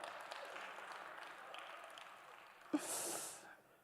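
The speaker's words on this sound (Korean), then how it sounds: "박수 한번 좀 부탁드립니다." Church congregation clapping for a gift mentioned from the pulpit, a soft, fading patter of applause followed by a sharp breathy gasp or snort near the end.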